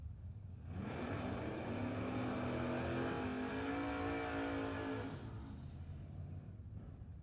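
Drag racing cars at a foot brake re-entry round build a loud, sustained engine roar from about one to five seconds, holding steady revs before fading back to a lower rumble.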